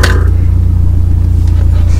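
A VIAIR air compressor fitted to a Cabrio car runs with a loud, close, steady low hum and a faint pulsing rattle. It keeps going without a break.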